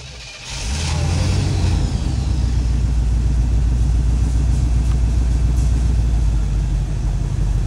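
An off-road Jeep engine starting in a wooded recovery scene, then idling and running with a steady close, low rumble that continues without talk.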